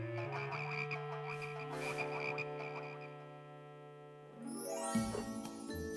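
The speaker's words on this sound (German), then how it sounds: "Du, vertreib diese Frösche!" Frogs croak in an animated Bible story about the plague of frogs, a dense run of rhythmic croaks layered with tonal, music-like sound, close and steady for about six seconds.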